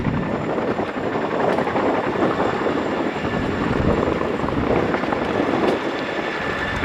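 RAF Chinook twin-rotor helicopter flying in an air display at Cosford, a loud steady rotor throb and engine roar that fills the whole stretch with no talking.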